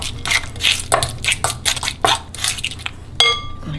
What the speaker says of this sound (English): And then add the garlic and the mayonnaise. Mix the garlic nicely.